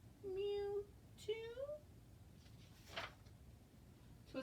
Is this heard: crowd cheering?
no